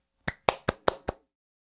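One person claps five times, sharp and close, in an evenly spaced quick rhythm before stopping, with near silence around the claps.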